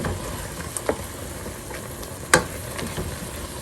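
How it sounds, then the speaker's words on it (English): Beans stirred into escarole bean soup in a pot, with a low bubbling simmer and a few sharp spoon clinks against the pot, heard alone at close range. "Stir in the beans."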